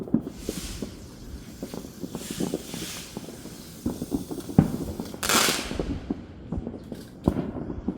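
Fireworks bursting outdoors at night in the rain, a steady patter of rain under scattered pops and sharp cracks, with a louder boom near the middle and a hissing, crackling burst shortly after.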